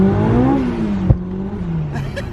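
A 450 bhp supercharged Honda S2000 struggles for grip on a damp road, its engine revving up and then dropping away, with a sharp knock midway and a faint whine near the end.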